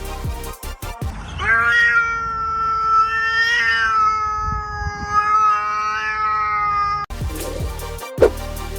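A single long, wailing cat meow rises and falls in pitch for several seconds, loud and near, with brief clicks before and after.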